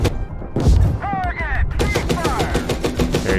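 Tank cannon and machine-gun fire in the Gunner HEAT PC combat game, loud rapid bursts of shots with a heavy boom, mixed with in-game radio voices.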